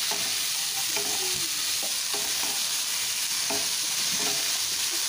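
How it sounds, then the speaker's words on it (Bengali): Broccoli with salt being stirred in a hot frying pan, a steady sizzle under repeated scraping strokes of a spatula at close range, with no talking. "এবার ব্রোকলিগুলোকে নুনটা দেওয়ার পর একটু ভালো করে মিশিয়ে নিচ্ছি।"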